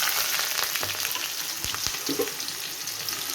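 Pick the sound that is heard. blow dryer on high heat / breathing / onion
onion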